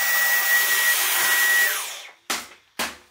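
A vacuum cleaner runs loud and steady with a whining motor, then winds down and cuts off, followed by two short bursts as it is switched briefly back on.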